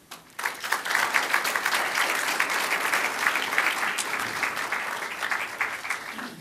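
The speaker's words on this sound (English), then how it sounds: "I want to give a round of applause to our panelists here for coming out and enlightening us." An audience at a university engineering panel on El Niño applauds the panelists with a sustained, fairly close round of dense clapping that carries on steadily for several seconds.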